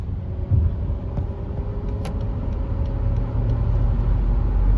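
A 2014 BMW X3 with a four-cylinder engine drives along, giving a steady, moderately loud cabin rumble with road noise that builds slightly toward the end.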